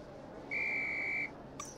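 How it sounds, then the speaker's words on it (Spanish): A single steady whistle blast from a Harry Potter video game, a clear sustained tone of nearly a second standing out over faint background game ambience, followed by a brief soft chime. "Al pitido del silbato."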